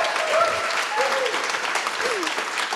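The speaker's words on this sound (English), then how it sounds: "Applaud, please." An audience applauds at a live taping of a culture show, with dense, steady clapping throughout and a few voices and brief cheers mixed into the ovation.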